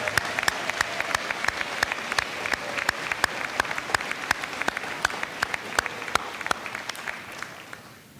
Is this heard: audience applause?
yes